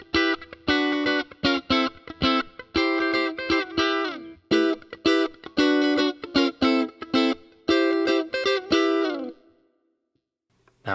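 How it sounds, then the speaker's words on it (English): Electric guitar played through a Fractal FM3/FM9/Axe-FX III preset, first with the graphic EQ engaged and then bypassed, giving clean, effect-laden choppy rhythmic chords in short bursts before fading to near silence. "let's hear the difference between the engaged graphic EQ, and then we will bypass that to hear that boxiness come in"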